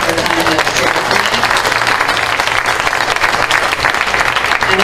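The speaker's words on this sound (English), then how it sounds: "Let's give one more round of applause for all the officers who took their time to share with me." Loud, dense audience applause for law enforcement officers, a continuous roar of many hands clapping close by without a break.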